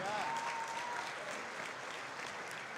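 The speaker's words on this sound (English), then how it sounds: "give her a big round of applause" Audience applause fills a hall, a continuous patter of many clapping hands at moderate level, with a brief whistle-like tone near the start.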